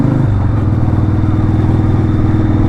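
Harley-Davidson Sportster V-twin engine heard while riding, a loud, close, steady low throb with a pulsing rhythm and a slight drop in pitch near the start, no talk.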